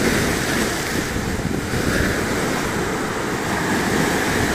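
Waves wash steadily against the shoreline of a rough, wild beach on the Japanese coast, a constant close roar blended with gusting wind buffeting the microphone, with no voices.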